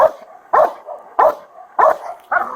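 A police dog barks loudly and close by, five sharp barks in a steady rhythm with brief pauses between them.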